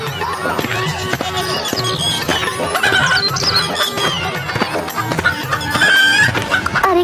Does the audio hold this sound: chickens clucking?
yes